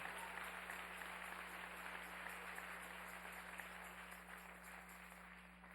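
A church congregation applauds in a dense, continuous wash of clapping that stays even and fairly distant, gradually fading a little toward the end, with a steady low hum beneath.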